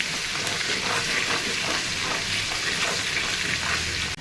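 Garlic frying in hot oil in a home kitchen, a dense, even crackling sizzle held close and steady throughout, with no one speaking.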